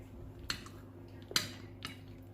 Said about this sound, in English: I'm eating the lasagna.